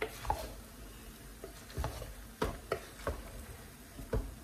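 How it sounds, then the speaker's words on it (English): A pot of Nigerian party jollof rice is shaken, giving a quiet bed of low sizzling crackle broken by irregular soft knocks and rattling bumps. "Let me shake the rice now."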